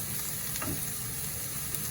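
Capsicum is stirred into vegetable rice frying in a pan, a soft continuous sizzle with a faint scrape of the spoon, quiet and close.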